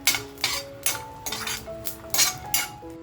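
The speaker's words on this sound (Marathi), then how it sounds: "ही लसूण आपल्याला छान अशी परतवून घ्यायची" Garlic being sautéed in a pan, with a series of sharp metallic clinks and scrapes of a utensil against the pan at an irregular rhythm over a faint sizzle, close and moderately loud.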